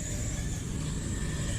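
An RC race car speeds down the front straightaway at an outdoor dirt raceway, a steady buzzing motor drone with a broad rushing noise, sustained and fairly even throughout with no voices over it.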